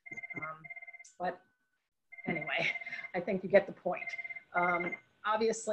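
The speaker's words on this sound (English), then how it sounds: "I do apologize for the phone. I have no idea how to silence it." A telephone rings repeatedly with a steady electronic trill during a town council and finance committee meeting, sounding under and between a man's ongoing speech.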